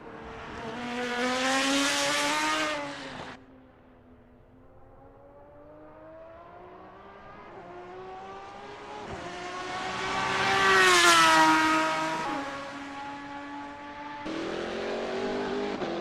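A GT Legends race car in Assetto Corsa laps Imola through Variante Alta, its engine note climbing, dropping on a gear change, then climbing again and rising to a loud peak before the next shift.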